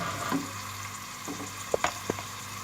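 Minced beef, about 400 grams and hand-chopped, frying in garlic ginger paste for a palak keema, giving a low steady sizzle with a few sharp stirring clacks near the end.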